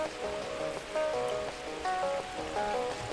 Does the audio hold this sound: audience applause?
no